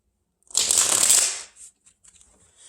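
Tarot cards being shuffled in a riffle, a dense papery flutter lasting about a second, followed by a few soft taps and slides as cards are drawn and laid down, close and fairly loud.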